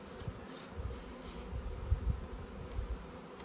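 Honeybee swarm buzzing with wing-beating during a swarm capture and transfer into a hive, a steady low drone close by with small swells in loudness, no voices.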